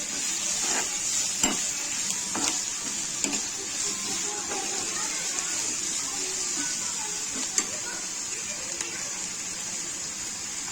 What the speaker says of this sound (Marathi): आता कांदा आपण गुलाबी होईपर्यंत त्याला फ्राय करून द्यायचा आहे.